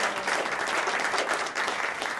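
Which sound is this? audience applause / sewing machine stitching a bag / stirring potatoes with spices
audience applause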